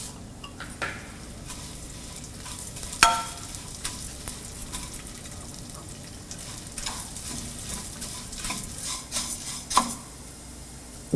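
Rice flakes frying in ghee until crispy keep up a steady sizzle, with frequent scraping stirs and occasional clinks of a spoon against the pan, close and continuous over several seconds with no voices.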